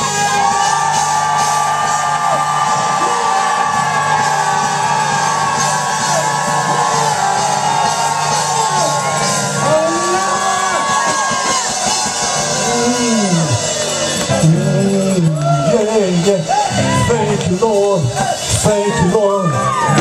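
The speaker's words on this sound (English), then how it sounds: "let's give a shout." A church congregation shouts and cheers during a service, a dense, loud crowd of whoops and yells mixed with a sustained organ-like tone and rising, overlapping voices throughout.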